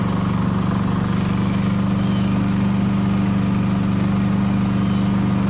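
A Champion 3400-watt dual fuel inverter generator runs steadily at close range, a constant low engine drone with a smooth, unchanging hum and no voices.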